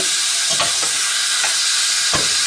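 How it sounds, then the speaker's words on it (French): Beef pieces sizzle loudly in oil in a pot as they are pushed aside, a constant bright frying hiss broken by a few scraping stirring strokes. "Je vais pousser la viande d'un côté"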